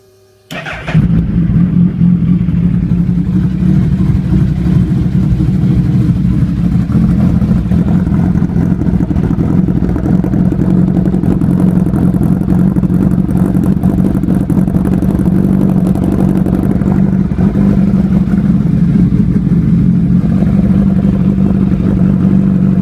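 A manual vehicle's engine fires up after a brief click and settles into a loud, steady, close rumbling idle with slight rises in revs, running continuously for about twenty seconds.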